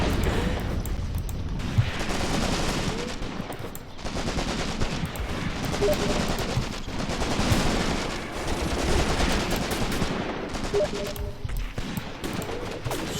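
Infantry gunfire in the WWII tactical game Graviteam Tactics: Mius-Front, sustained rifle and machine-gun bursts rattling continuously for over ten seconds with distant booms, a dense battlefield din.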